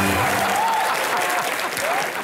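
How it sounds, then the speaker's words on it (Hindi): Studio audience on the Hindi comedy show Comedy Nights with Kapil breaks into loud, dense applause, a sustained close wash of clapping lasting the whole moment, with a faint musical tone underneath. "ठोको ताली"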